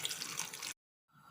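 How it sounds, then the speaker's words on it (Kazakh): Four litres of water pour into a pot of pitted apricots set on the stove, a steady close splashing stream that cuts off abruptly, followed by a pause and then a fainter trickle. "4 литр суымызды құйдық,"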